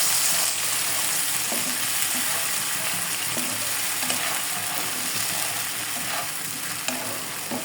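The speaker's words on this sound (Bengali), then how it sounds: "পেঁয়াজ রসুন বাটা দিয়ে এখানে নাড়াচাড়া করব কিছুক্ষণ।" Onion and garlic paste stirred and fried in a pan for a rohu fish curry, a constant close hiss of frying with soft scraping strokes of a spatula throughout.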